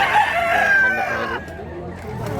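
Roosters crow loudly and close at a Filipino chicken market, a drawn-out cock-a-doodle-doo over the first second and a half, followed by lower clucking and murmuring crowd noise in the background.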